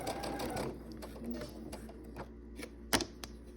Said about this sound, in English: we're just gonna sew that other half of the orange pill, the other side of it